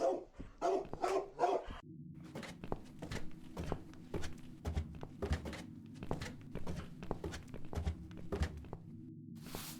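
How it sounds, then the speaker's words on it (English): A dog in the video game The Cat Lady barks in a loud, repeated run of sharp barks, some in quick pairs, close by with thuds and muffled background sounds. "This dog is making quite a racket."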